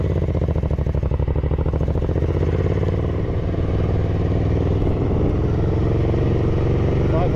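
A Ducati 900SS Bevel motorcycle pulls away, its engine note loud, close and continuous, rising steadily through the whole stretch.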